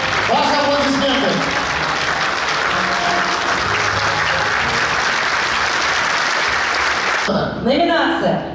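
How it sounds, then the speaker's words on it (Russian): Loud, dense audience applause fills an award ceremony hall for about seven seconds, steady throughout, then briefly swells again near the end with a voice audible over it. "Ваши аплодисменты!"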